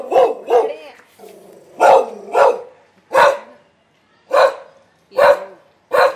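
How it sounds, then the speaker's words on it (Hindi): Several dogs bark outside in a street, a run of sharp, loud barks in uneven bursts with short gaps between them. "बाहर गली में डॉग्स नजर आ जाए तो उनको जरूर भौंक चाहिए।"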